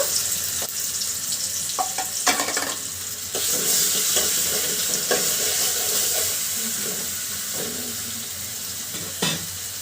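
Garlic and cumin paste sizzles steadily in hot oil with a bay leaf in the pan, a close bright crackle that continues throughout, broken by a few scraping stirs and utensil knocks.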